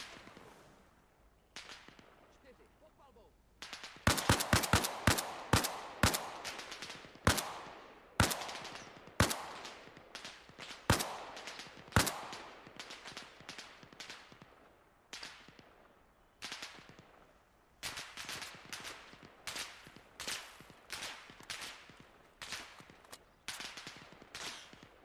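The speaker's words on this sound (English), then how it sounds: "Where's all that fire coming from?" Gunfire in ArmA Reforger's Kolguyev sawmill battle: sharp single shots and rapid bursts crack out irregularly at close to mid range, dense for stretches, then thinning into scattered reports with quiet gaps.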